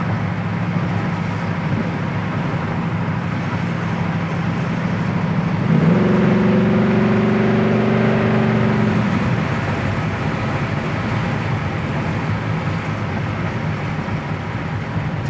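A 1969 Camaro cruising at about 80 mph on a test drive, its engine holding a steady drone under road and wind rush. Midway the engine note rises and strains briefly, then settles back into constant cabin noise.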